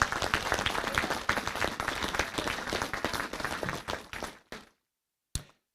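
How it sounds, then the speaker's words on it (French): Applause for teachers from the audience at a mayor's 2024 New Year's wishes ceremony, dense and steady for about four seconds, then thinning to a few scattered last claps and one final isolated clap. "je pense qu'on peut aussi applaudir les enseignants pour le travail qu'ils accomplissent"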